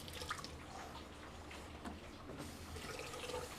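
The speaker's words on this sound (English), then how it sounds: "we're going to fry it off in batches" Chicken wings deep-frying in a batch of hot oil held near 350 degrees, a steady close crackle and sizzle that runs throughout with no talk.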